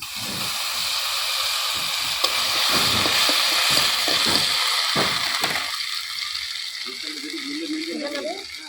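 Cumin, ginger and garam masala pastes hitting hot oil in a frying pan while cooking maskalai dal with fish head: a loud, broad sizzling hiss that holds steady, then settles and softens toward the end.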